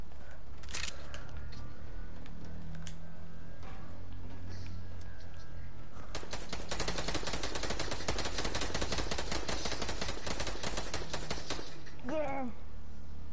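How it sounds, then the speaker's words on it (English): Video game gunfire crackles in a rapid, dense burst of shots lasting several seconds, preceded by a few isolated sharp shots, with faint game sounds around it. "I heard gunshots and I can see gunshots."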